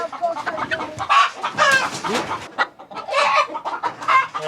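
Roosters cluck and squawk loudly and close by in busy, overlapping bursts as they are carried and loaded into a movable chicken coop, with some handling noise between calls.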